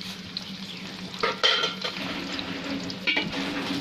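Chopped onions fry in hot oil in a pan for a dhaba-style fish dish, giving a steady close sizzle, with a few louder scraping stirs and clinks near the middle and end.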